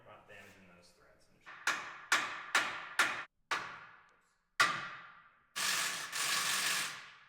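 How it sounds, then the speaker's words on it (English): A metal hammer strikes a ball joint nut on an MK4 Jetta suspension several times in a steady rhythm, each hit sharp and ringing, followed by a pause and then a longer scraping rattle. "when we're hitting it with the hammer, we're not damaging those threads"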